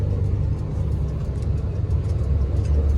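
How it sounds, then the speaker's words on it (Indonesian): Dirt-hauling trucks idle and creep through a traffic jam on Indonesia's north coast road, a steady low engine rumble filling the whole span with no pauses and no talking. "Mobil-mobil tanah."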